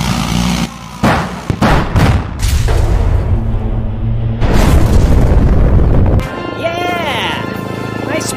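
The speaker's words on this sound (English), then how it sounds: "We gotta shoot out these support beams." Video game gunfire and explosive booms as support beams are shot out, loud and dense, with heavy blasts and crashing debris layered under excited in-game voices.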